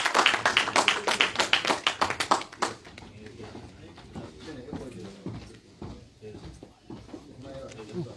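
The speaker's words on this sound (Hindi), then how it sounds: "तालियां बजती रहनी चाहिए।" At a BJYM youth wing party meeting at party headquarters in Trikuta Nagar, Jammu, an audience claps in a brisk, loud burst for about three seconds, then fades to scattered taps under murmuring voices and talk.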